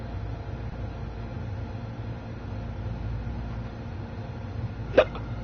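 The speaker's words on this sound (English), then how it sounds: "Oh my goodness, damn hiccups." A single sharp hiccup sounds near the end, over a steady low hum of background noise from a train simulator game; no talk.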